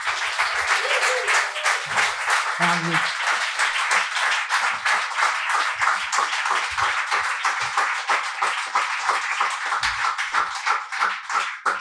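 An audience on a boat show applauds the creole jazz pianist Hervé Selcal, a steady wash of clapping with brief voice murmurs early on, sustained and fairly loud throughout.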